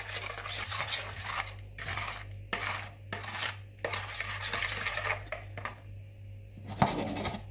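Flour, baking powder and salt stirred together in a bowl by hand, a steady series of scraping, rubbing strokes with small clinks, fairly close and moderately quiet, with no talking.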